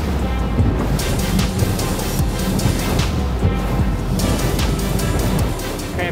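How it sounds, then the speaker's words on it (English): A RIB boat runs at full throttle across choppy waves in strong wind: a steady, loud roar of engine, rushing water and wind buffeting that lasts throughout, close up, with no talking. "Full throttle. Be careful, because we have a lot of waves and a lot of wind"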